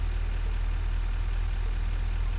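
A tractor engine in the video game Satisfactory runs loud and steady at a continuous low idle-like drone, with a strong low rumble and a broad hiss on top and no break.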